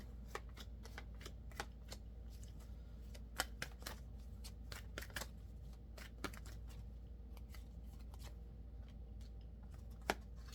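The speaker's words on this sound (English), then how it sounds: "let's get some cards for the bottom row" Tarot cards being shuffled and drawn, a steady run of quick crisp riffles and sharp snaps close to the ear over a low background hum, with no talking.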